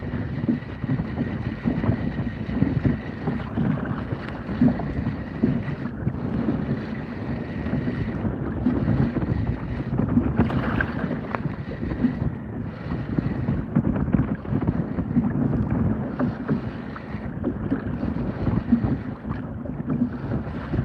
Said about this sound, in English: the waves get shorter and shorter